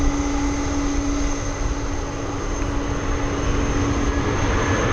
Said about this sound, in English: This MD-11 to Louisville, it looks like we're going to get a west side takeoff.